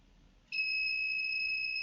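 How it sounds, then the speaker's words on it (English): An ESP32-controlled buzzer switches on abruptly and holds a steady, piercing electronic tone with no break, close and clear over a quiet background. "now I am turning on the buzzer using the help of this ESP32"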